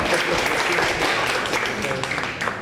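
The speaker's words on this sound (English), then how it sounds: "please, keep the clapping and cheering to a minimum" An audience at a political debate in Bay Ridge, Brooklyn, New York breaks into steady, dense applause that fills the room from start to finish, with voices mixed into the clapping.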